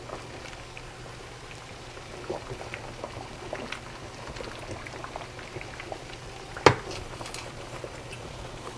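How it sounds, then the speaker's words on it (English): Cabbage boiling in a pot of water gives a faint, steady bubbling and popping, with one sharper clink partway through and no voices. "It doesn't take long for this cabbage to boil either."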